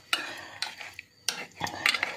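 A fork scrapes and taps against a bowl in short, irregular bursts, close and quiet, as soft tinned Baltic herring is mashed.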